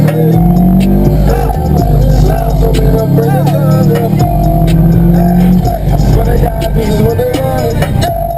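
A 2004 or 2005 Subaru WRX engine hums and revs nearby, its pitch rising and falling in a steady loud drone while people talk over it.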